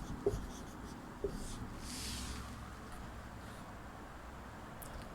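Soft scratching of writing on a classroom board during a Sanskrit lesson, with a couple of small taps followed by a faint, drawn-out stroke, quiet against room hiss.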